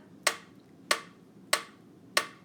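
Grade two children in a music lesson clap out a rhythm: four crisp, evenly spaced claps ring out quietly against near silence, each with a short decay.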